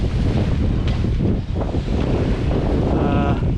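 Strong wind of about 20 knots roars across the microphone aboard a sailboat under headsail alone in a big chop, a loud continuous buffeting rush with water noise underneath.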